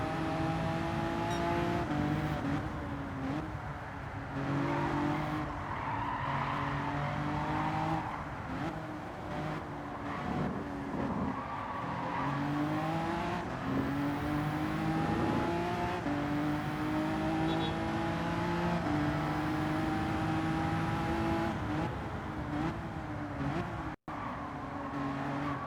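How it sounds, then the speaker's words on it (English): Alfa Romeo Giulia racing in Gran Turismo 7, a loud, continuous engine note rising and falling through gear changes and throttle lifts, close and alone for most of the run. "there's the Alpha Giulia. It's such a noisy car"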